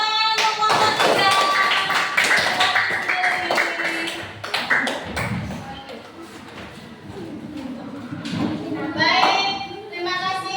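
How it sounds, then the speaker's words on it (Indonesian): Schoolchildren in a classroom clap as a group in applause for group 3, a loud, dense clatter of hands mixed with voices and children's chatter. "Tepuk tangan untuk kelompok 3."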